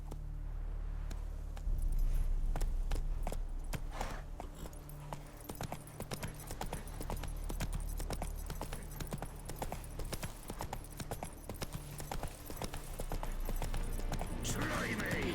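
Horse hooves gallop in The Witcher 3 video game, a repeated clip-clop rhythm running throughout with sharp hoof strikes over a busy ambient bed.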